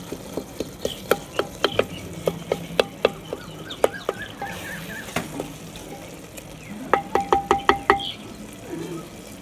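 Brain masala fry being mashed and stirred in a pan in a village kitchen: a close series of sharp spoon knocks and taps against the pan over a low sizzle, with a denser run of clinks near the end.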